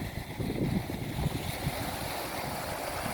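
Sea waves wash on the coast at Rapid Bay, South Australia, a soft continuous low rumble and surge with some wind buffeting the microphone, fairly faint and without voices.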